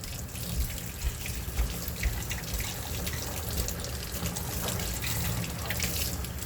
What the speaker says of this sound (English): So then you just wash all the seeds out, and it just comes out in a waterfall of seeds.